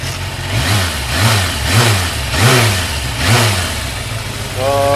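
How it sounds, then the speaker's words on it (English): A Honda CBR400RR motorcycle engine runs nearby in a workshop setting, blipped in a quick series of about five short rhythmic revs over a steady idle. "Obviously I'm just doing the regular fucking starting of the bike up."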